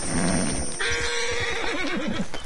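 A horse in Red Dead Redemption 2 lets out a loud, close whinny that rises and then wavers down into shaky pulses, after a horse's leg has been broken. The whinny stands alone, with no talking over it.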